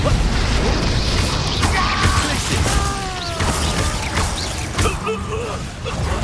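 The Confringo blast spell fires in Hogwarts Legacy, a burst of combat booms, crashes and magical whooshes layered over game music and a voice shouting, dense and loud throughout.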